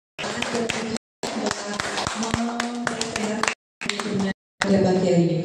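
A seminar audience at a PPPK orientation claps in dense, close bursts of hand claps, broken by abrupt silent gaps, with voices talking underneath.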